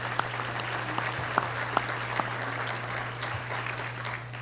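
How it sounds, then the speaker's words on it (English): Audience applause at a Red Cross heroes luncheon, steady broadband clapping of a large crowd held at an even level for several seconds, with a constant low hum underneath and a few sharper claps standing out. "Give yourselves a round of applause."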